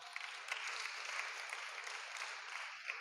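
Congregation applause at a church Bible study service, steady broadband clapping from a sizable crowd throughout, moderately loud and continuous with no talk over it.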